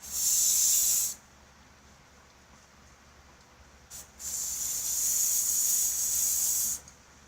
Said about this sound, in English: Throw it out with the air gun.